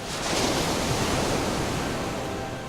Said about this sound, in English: I hear these waves as we approach Ellis Island, and I hear what so many before me heard.